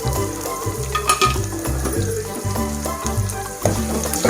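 Steady sizzling and frying in a pan while cooking Andhra-style methi palak dal, with stirring scrapes over a continuous crackle, close and fairly loud.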